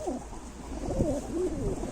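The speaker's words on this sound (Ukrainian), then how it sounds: "з українськими ігровими високольотними голубами жовтого окрасу" Yellow Ukrainian high-flying tumbler pigeons cooing, with soft, repeated low calls rising and falling continuously over a steady background hum, fairly close.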